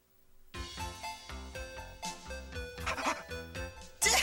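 Cartoon dog Rush barks in a short animated scene, a few quick yips heard over a busy, bright musical score.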